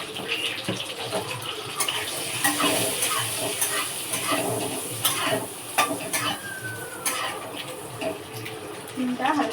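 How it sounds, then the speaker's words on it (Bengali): Eggs frying with turmeric in a pan give a steady sizzle, with scraping and stirring clatter scattered throughout, close by. "ডিমটা এবার সমস্ত হলুদ দিয়ে ডিমটা ভেজে নেব।"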